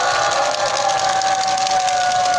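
An outdoor crowd at a Wednesday protest rally applauds and cheers for Kim Bok-dong: steady, sustained clapping and cheering that holds at an even level, with a faint tone running underneath.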